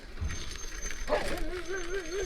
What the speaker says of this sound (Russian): Так, выскочил пес